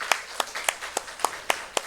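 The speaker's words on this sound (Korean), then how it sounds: "잠깐만 한번 박수로 한번 축복하겠습니다" A small church congregation claps in a slow, steady rhythm to bless a visiting guest, about eight distinct, fairly close claps.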